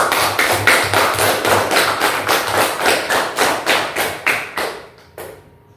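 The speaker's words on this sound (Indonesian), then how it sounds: "Tepuk tangan buat kelompok 1." A classroom group claps for group 1 in steady unison, about fifteen evenly spaced, close claps that soften and fade out at the end.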